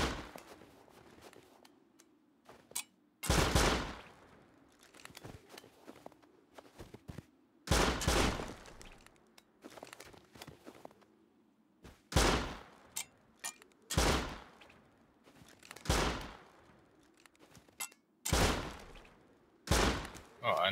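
Gunfire in the video game Rust during a raid: loud, sharp single shots and short bursts at irregular intervals, separated by quieter stretches with faint background game sounds.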